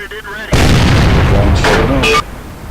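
A loud, sharp boom from an SU-85B tank destroyer firing a gold round in World of Tanks, followed by a rumbling decay and a second burst of impact noise, with brief voice sounds before the shot.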